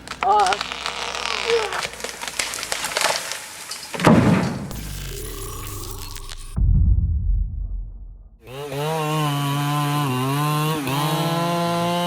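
Chainsaw cutting tree timber alongside heavy machinery in stump removal work, with loud bursts, a cut-off gap, then a sustained high engine whine under a speaking voice.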